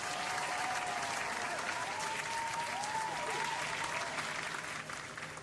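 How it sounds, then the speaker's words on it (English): A small group claps in a steady round of applause with some faint cheering, filling the cabin of a small plane in flight. "Let's give ourselves a round of applause"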